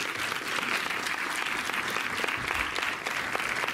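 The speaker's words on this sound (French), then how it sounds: "On a le droit aussi de les applaudir, c'est un peu comme une entrée dans un stade, il faut les encourager." An audience at a cinema award ceremony for animated film gives sustained, even applause to filmmakers, a dense continuous wash of clapping throughout.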